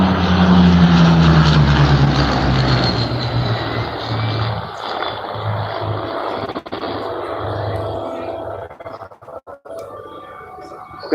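A Supermarine Spitfire flies past at the Bournemouth Airshow 2018, its propeller engine droning loud at first, then fading as it moves away, leaving fainter rumble and a few sharp bangs toward the end.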